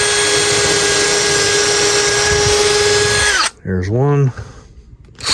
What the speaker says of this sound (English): I'm going to drill my 2 feeders for the siding itself.